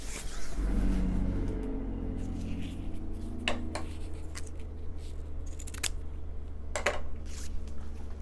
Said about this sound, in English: that was a very loud truck